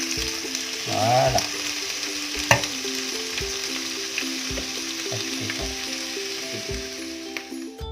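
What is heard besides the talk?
mushrooms sautéing in a frying pan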